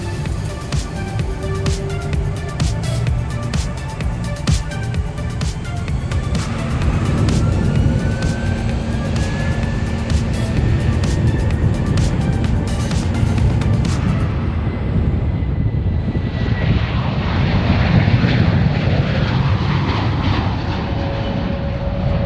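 Airplane taking off at Frankfurt airport, a loud, steady engine roar that swells and holds for the length of the clip, with no voices over it.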